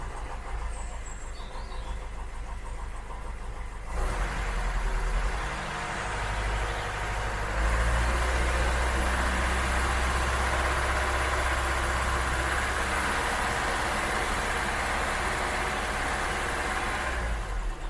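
Ford Cortina MK3 engine idling in a garage, then revved up to a louder, sustained higher-speed drone that holds steady for several seconds.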